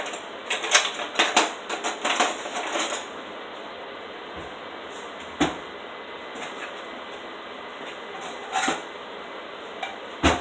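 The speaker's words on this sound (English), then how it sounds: "I'm going to get a knife and cut this for you." A knife cuts through a bruschetta frittata on a plate, giving a quick run of clicks and scrapes early on, then a few isolated taps of the blade against the plate, close and fairly quiet, with no talking.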